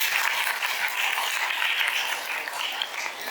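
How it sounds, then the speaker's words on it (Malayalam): Steady applause from an audience at the NWA Santhosham 2025 stage event, a dense and even wash of clapping that holds at a constant level from start to finish, with no voices. "അവർക്കൊരു നല്ല കയ്യടി കൊടുത്ത് അവരെ പ്രോത്സാഹിപ്പിക്കണം"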